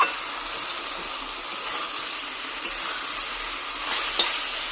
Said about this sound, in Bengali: ভালো করে কষাচ্ছি যাতে কাঁচা গন্ধটা না থাকে।